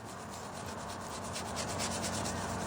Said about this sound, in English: There's a guy in the UK that cleans the signs, the road signs